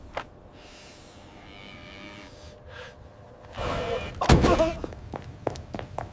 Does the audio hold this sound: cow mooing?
yes